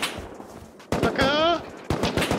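Rust gameplay gunfire: sharp bursts of shots at the start and end of a short stretch, with a voice talking over the middle.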